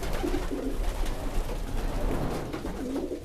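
Racing pigeons coo in a busy flight loft, several soft, low throaty calls overlapping and repeating close by against a steady rustling background.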